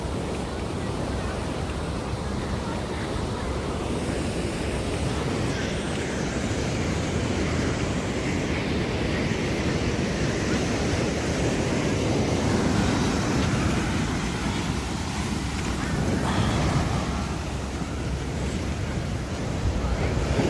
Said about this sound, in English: Look where the waves hit, dude.